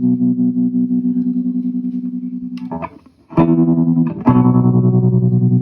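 Sustained electric guitar notes through a tremolo pedal pulse rapidly in volume with a steady throb, a brief pause, then new chords ring out with the same wavering effect.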